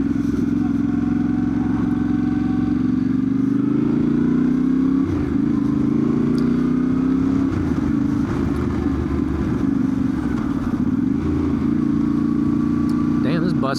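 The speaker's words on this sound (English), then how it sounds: "damn, this bus is going harder on this than I do" A nearby bus accelerates on the road with a sustained, rising engine drone that swells and dips over several seconds. It sits close under wind noise heard from a moving motorcycle.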